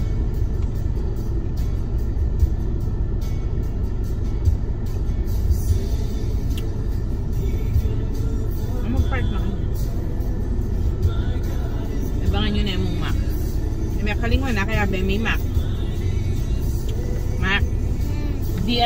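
A car engine idles steadily in a parking area at a mall entrance, with a constant low rumble throughout and faint higher noises from around it, while people talk over it.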